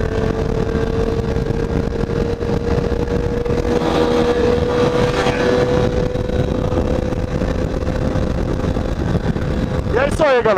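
Yamaha Ténéré 250 motorcycle on the move, its engine droning steadily with wind rush across the whole stretch, a voice talking over it at times and a brief rising rev near the end.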